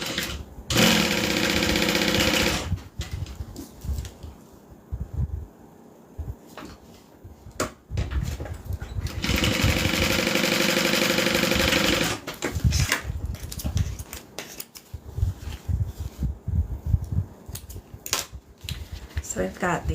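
Sewing machine stitching the gusset of a fabric bag in bursts, a few seconds of fast running stitches, a pause with handling noise, then another longer run and scattered clicks.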